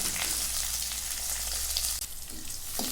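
Onions fry in hot oil in a home kitchen pan, a steady bright sizzle that carries on throughout with a brief stir near the end, with no talking.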